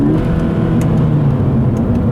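Engine of a 2017 Subaru BRZ Limited with automatic transmission, heard from inside the car as a steady, loud mid-range drone that shifts slightly in pitch during a downshift, with no talk.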